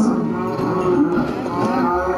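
Cows in Minecraft moo repeatedly in a crowded pen, several low, drawn-out calls overlapping steadily and close by, with no talking.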